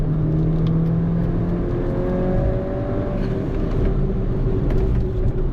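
A 2013 Mini Cooper GP being driven hard on a race track, its engine droning steadily and loudly with shifting pitch as it runs and slows under braking, close and continuous with no talk.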